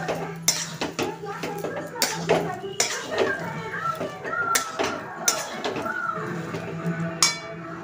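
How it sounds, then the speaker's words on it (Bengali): A spoon scrapes and clinks against a pan while Everest pav bhaji masala is stirred into the mixture, with repeated sharp metallic taps throughout and someone talking over the stirring. "নিয়ে এটাকে ভালো করে মিশিয়ে দেবো।"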